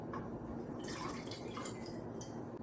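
Water being poured for a green chili pickle brine, 200 ml going into a container as a steady, quiet trickle with faint dripping and splashing, close by and alone.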